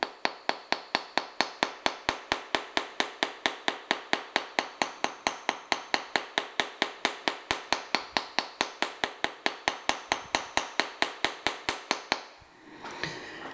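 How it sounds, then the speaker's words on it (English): Rapid, evenly spaced hammer taps ring out on wire for a hoop earring on a metal block at close range, a long unbroken run that stops abruptly near the end. "Now I'm going to turn it around and I'm going to hammer again."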